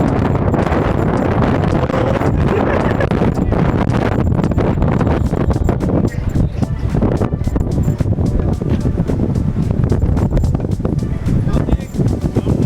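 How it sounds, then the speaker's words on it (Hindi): Strong wind buffets the microphone in a loud, continuous roar with gusty surges at a dam in snowy mountains near Sissu, while a person talks over it. "इतनी तेज़ हवा है भाई साहब, इतनी तेज़, मतलब खड़ा आदमी भी हिल रहा है"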